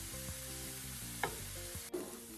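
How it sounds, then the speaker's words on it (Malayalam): Mutton with salt sautés in a pan with a steady, close sizzle, broken by rhythmic scraping stir strokes and a couple of louder clacks. "ഇനി നമുക്കിതിനെ നന്നായിട്ടൊന്ന് വഴറ്റിയെടുക്കാം"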